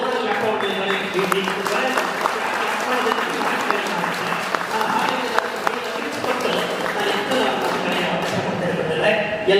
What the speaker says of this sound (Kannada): ಮತ್ತೊಮ್ಮೆ ಚಪ್ಪಾಳೆ ಮೂಲಕ